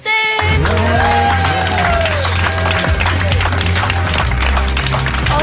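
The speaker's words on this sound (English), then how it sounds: "can we have a massive cheer for Austin?" A TV studio audience at a 2008 talent show results night cheers and applauds loudly and continuously, with a band playing and voices mixed into the dense crowd noise.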